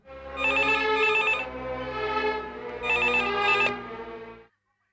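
A telephone rings loudly and close in two long electronic trilling bursts with a short gap between them, and no voices are heard.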